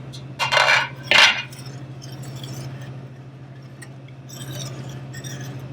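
A lid goes onto a pot of boiling potatoes with two quick metallic clanks close by, followed by a steady low kitchen hum.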